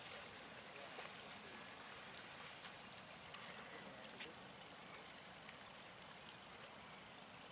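Storm water rushes like a river across the sand during a coastal storm, a steady broadband wash of flowing water with rain-like patter and no breaks.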